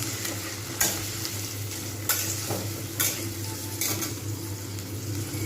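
Roasted pea-pod paste frying in a pan is stirred, giving a steady close sizzle with a few sharper scraping strokes at irregular intervals and no talk.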